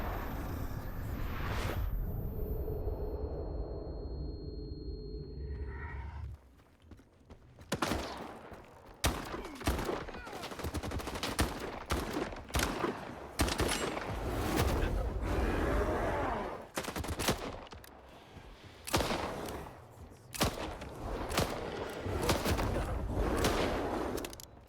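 Shotgun blasts in a video game ring out as a long series of loud, sharp shots, some spaced and some clustered, with little talking around them.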